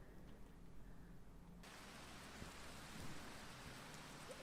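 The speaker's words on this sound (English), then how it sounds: "It is raining." Rain falls as steady soft hiss in a video game, quiet at first and then swelling abruptly into a denser downpour with faint low rumbling, with no voices.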